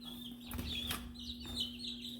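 Young backyard chicks, some of them darker birds growing in their feathers, give soft, sporadic peeps and clucks over a steady low hum, fairly quiet and close.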